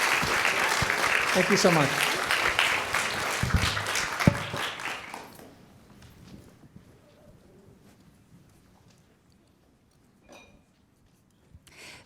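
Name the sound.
audience applause for panel guests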